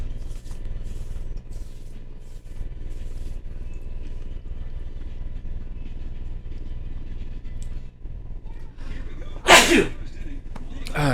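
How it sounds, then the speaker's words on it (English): A single sharp sneeze near the end of a clip from an MLB PowerPros 2008 baseball video game session, loud and close, over quiet game background hum. "I could tell that sneeze was coming on for a while."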